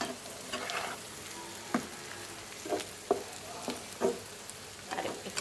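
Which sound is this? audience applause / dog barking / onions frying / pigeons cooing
onions frying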